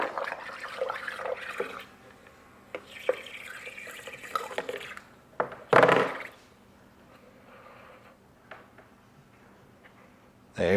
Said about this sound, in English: The air is still going through